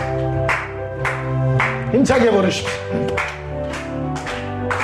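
A church congregation claps in a steady, evenly spaced beat while a hymn plays on a sustained instrument, with a leader's voice speaking over the rhythm.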